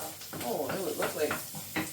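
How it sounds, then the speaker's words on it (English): Onions and garlic sizzle in butter and oil for a bacon and mushroom risotto, a close, crackling fry broken by the scrape of a stirring spoon. "those onions and garlic are cooking away nicely now in the butter and oil"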